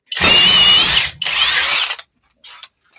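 A Flex cordless drill bores into wood with a bit, loud and close, in two long strained bursts, then a brief quieter whir at the end.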